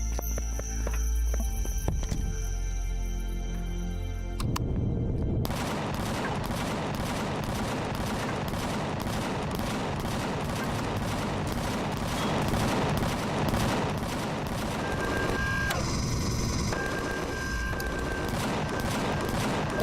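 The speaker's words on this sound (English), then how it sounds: "those big guns are helping" Heavy guns fire in a video game as a steady, dense stream of rapid booming shots lasting the whole stretch, loud and continuous, with a brief change in texture partway through and electronic tones layered on top.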